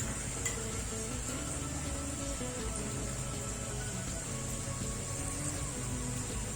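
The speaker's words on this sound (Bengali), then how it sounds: "দেখো একটু ভাজা ভাজা হয়ে গেছে। পেঁয়াজ কিন্তু খুব বেশি ভাজবো না" Onions fry in a pan for fish-head masoor dal, giving a steady, close sizzle with faint scraping or stirring underneath and no voices.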